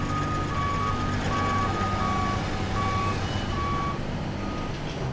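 A heavy truck hauling 22 tonnes of scrap sounds steady reversing beeps at an even rhythm over a constant engine drone while it backs up outdoors.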